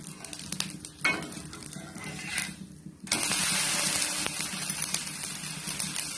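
Balloon vine leaf dosa frying in oil on a pan over a medium flame: a steady close sizzle with crackling and scattered scraping clicks, rising louder and brighter about halfway through.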